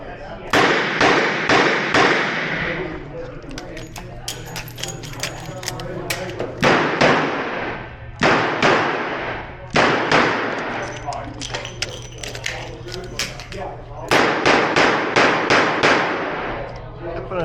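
Loud, sharp revolver shots from a Spohr L562 ring out at an outdoor club shooting match, fired in rapid strings of several with short pauses between groups, over a steady low background hum.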